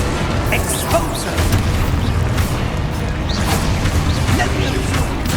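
An Exposo spell explodes in the Hogwarts Legacy video game, a loud, sustained blast of booming rumble and crackling debris that fills the whole moment.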